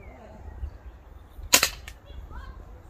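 Homemade slingshot rifle built from a 2x4 being fired, a single sharp loud snap and whip-like crack that fades quickly against quiet surroundings.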